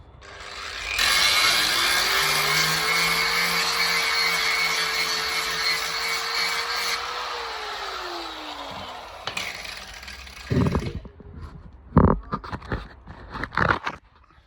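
A steady, loud grinding whine on a car quarter patch panel runs for several seconds with a changing pitch, then stops, followed by scattered clanks and scraping knocks.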